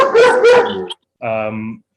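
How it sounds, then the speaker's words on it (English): Two dogs at play: two quick, sharp barks come close together, then after a brief pause a longer whining yelp follows, all up close. "sorry about my dogs. They're in play mode"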